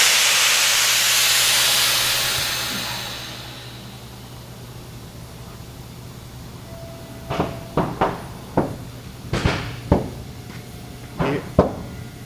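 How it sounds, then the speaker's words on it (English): Air suspension airlifts on a custom-built chip van truck dump with a loud, broad hiss of escaping air that fades out, followed by several sharp clunks and knocks as the suspension settles. "I'll throw the airlifts down and you'll see some pretty fast action."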